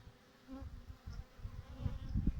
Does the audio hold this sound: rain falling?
no